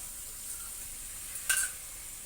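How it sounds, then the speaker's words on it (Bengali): Whisked sour yogurt goes into a frying omelette curry, giving a steady low sizzle with a brief louder hiss burst midway and another at the end. "টক দই নিয়েছি, সেটাই ফেটিয়ে সুন্দর করে এটার মধ্যে দিয়ে দেব।"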